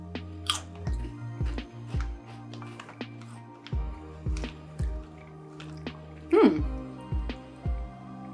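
Crunchy chewing of ridged Herr's Flavored By Philly potato chips, close up, in repeated bursts of crisp bites and mastication with a few wet mouth sounds, no talking.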